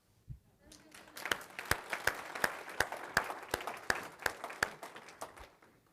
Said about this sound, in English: That was an applause.